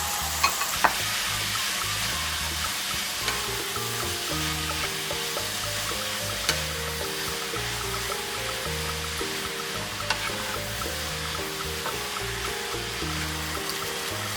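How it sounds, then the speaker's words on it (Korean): Ground beef and tomatoes stir-fry in a pan for a Hong Kong-style tomato ramen, giving a steady close sizzle throughout with occasional sharp clicks and scrapes from the utensil. A low tonal background hum sits underneath. "간 소고기 200g을 넣어 함께 볶아줍니다."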